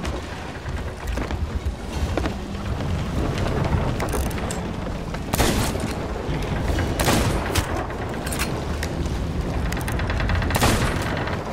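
Gunfire rings out during a ship battle in the Sea of Thieves video game, with several sharp shots and booms spread over a continuous rumbling, watery background and no talk.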